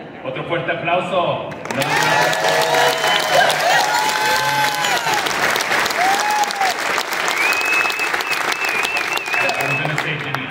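Audience at a mariachi concert in Napa, California breaks into loud, sustained applause that carries on steadily throughout, starting just after a brief spoken line and mixed with a voice talking over it.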